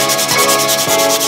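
Steady rhythmic sanding of Bondo body filler on a widebody EG hatch, loud and close, with back-and-forth rubbing strokes and no talking.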